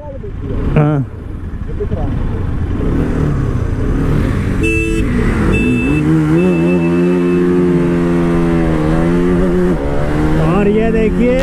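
A new-generation 2021 KTM RC 200 and KTM RS 200 motorcycle drag race. Engines rev hard and climb steadily through gears, loud and close, while a commentator talks over the whine.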